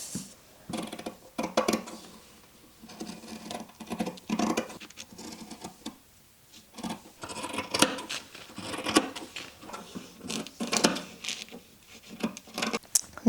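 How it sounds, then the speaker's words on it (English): Fabric scissors snip around a sewing pattern for an Easter basket, giving irregular bursts of close, crisp cutting and rustling cloth with brief pauses between strokes. "And now we need our fabric scissors, and we will"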